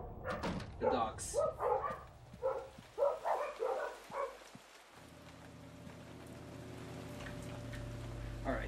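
Dogs in the video game Eternal Darkness giving a rapid run of barks, roughly a dozen close together, followed by a low steady hum, with someone speaking.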